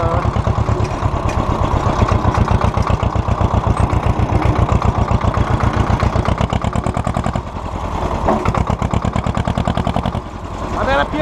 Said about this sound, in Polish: A teraz pierdol mnie, gdy traktor idzie szalony.